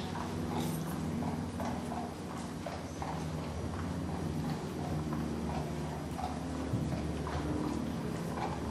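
A dressage horse performing tempi changes in an arena gives a steady, rhythmic clip-clop of hooves on footing, moderately close, with soft background noise and no talk over it.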